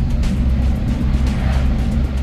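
An Isuzu Q75 truck with a canvas-covered body drives along, its engine a steady, close, low rumble with road noise, heard alone without talk.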